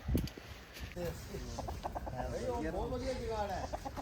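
Hens clucking in short, repeated bursts at moderate distance, mixed with people talking nearby in a quiet outdoor setting.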